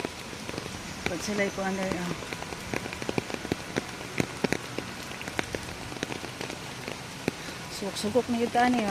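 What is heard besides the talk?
rain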